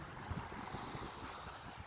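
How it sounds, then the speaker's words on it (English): Waves wash steadily against the shore at Cornucopia Beach on Lake Superior in Wisconsin, a soft continuous surf with wind noise buffeting the microphone and no voices. "This is Cornucopia Beach"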